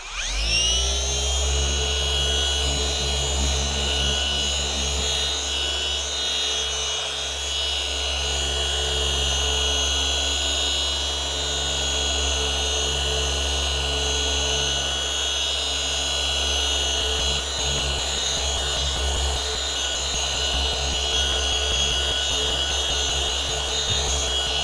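A Dr. Beasley's Z1 car polisher runs on a fresh pad, polishing the paint of a new Avalon. Its loud, steady motor whine and hum stay close and unbroken throughout, with no talk over it.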